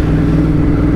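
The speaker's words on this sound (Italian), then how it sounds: "allora si prende la moto." A Monster motorcycle engine runs loud and close in a short, steady burst, with a thick, throbbing low drone.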